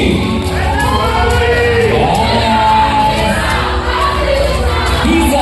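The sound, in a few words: audience applause and cheering for school team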